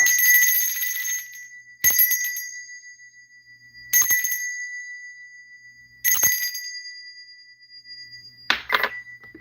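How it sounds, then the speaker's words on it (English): A hand bell is rung during a spoken invocation ceremony, struck four times at steady intervals of about two seconds. Each bright, clear strike rings out and slowly fades, followed by a short, quick jangle near the end. "Let me ring this bell."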